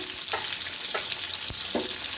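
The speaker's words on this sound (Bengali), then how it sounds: "পটলগুলোকে আমি চাপা দিয়ে দিয়ে ভাজবো" Steady close sizzle of pointed gourd pieces being pressed down as they fry in a pan, with a few soft scraping stirs and one dull knock partway through.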